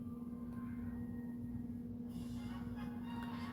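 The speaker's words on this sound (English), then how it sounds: "I can still hear that train in the background." A train rumbles faintly in the background of a quiet Yu-Gi-Oh! The Falsebound Kingdom game session, a steady low drone with a persistent hum, the noise brightening slightly partway through.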